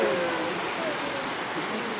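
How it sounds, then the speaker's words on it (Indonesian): Rain falls steadily as a dense even hiss at moderate level, filling the whole stretch without pauses, with no clear speech over it. "Hujan berkat, tidak apa-apa. Sebentar dia berhenti."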